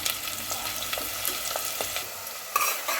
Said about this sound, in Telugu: ఉల్లిగడ్డ ముక్కలు అయితే మంచిగా గోలుతున్నాయండి